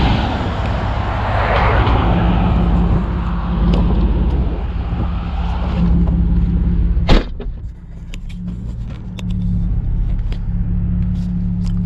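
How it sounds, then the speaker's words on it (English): A BMW E36 328i with its straight-six M52 engine and catalyst removed, heard from inside while driving: a loud, continuous low engine drone and road rumble with wind noise, briefly dipping after a sharp click midway. "POV of the BMW E36 328i. Catless, no catalyst."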